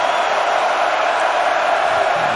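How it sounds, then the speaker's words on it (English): A football stadium crowd at the Gator Bowl between Notre Dame and South Carolina, a loud, dense, continuous roar of cheering fans that holds steady throughout. "Check the crowd noise."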